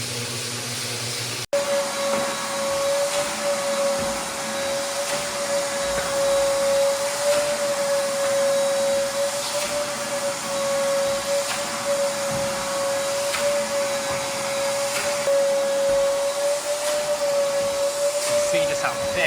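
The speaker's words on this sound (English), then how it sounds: "I'm going over the floor with the next grit" Floor grinder sanding a 1970s terrazzo floor with the next grit, a steady loud whirring drone with a constant tonal whine that runs throughout after a brief click at the start.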